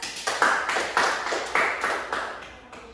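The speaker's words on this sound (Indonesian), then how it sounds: "Untuk kelompok Septa dan Lady boleh diberi aplaus" Applause from students in a classroom during a lesson: a short burst of scattered hand claps close by, coming in uneven waves that gradually thin out.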